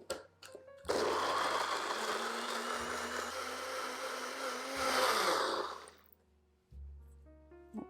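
A blender whirs steadily for about five seconds, blending buckwheat bread batter into a creamy paste, its motor loud and close, then spinning down to quiet with faint kitchen clicks.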